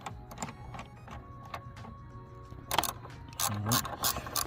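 Ratchet clicks while a Powerflex upper mount insert is tightened down on a Hyundai Elantra, close and fairly loud, in rapid bursts of pawl ticks with brief pauses and heavier strokes toward the end.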